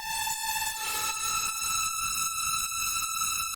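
A synth lead heavily distorted with Trash 2 and Little Alter Boy plugins plays a buzzy, harmonically dense sustained tone with a rhythmic pulsing underneath. It is loud and alone, in the style of San Holo.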